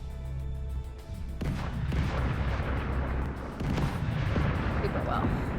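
Artillery guns fire in a video game, a dense run of heavy booms and rumbling blasts that fill the clip loudly and continuously, with a brief lull near the start before the barrage resumes.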